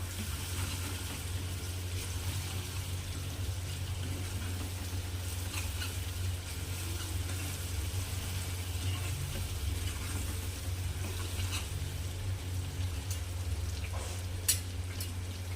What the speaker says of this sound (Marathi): आता यामध्ये टोमॅटो ॲड करू याला पण छान परतून घ्यायचा